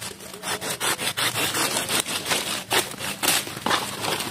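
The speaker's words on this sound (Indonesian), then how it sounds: "Ini ada serut, geng." A hand plane is pushed across wood in quick repeated strokes, each a close, raspy shaving scrape, about a dozen in steady rhythm.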